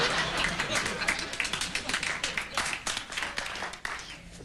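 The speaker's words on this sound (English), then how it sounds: "A smattering of applause." A smattering of studio audience applause on a late-night talk show, a steady wash of scattered hand claps rising and falling without a clear rhythm, moderately close and filling the whole clip.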